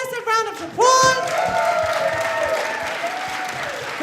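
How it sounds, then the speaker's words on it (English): Audience at a kapa haka festival giving a big round of applause, with cheering and whoops over the clapping and a loud sung or shouted vocal line near the start. "Let's give them all a massive round of applause."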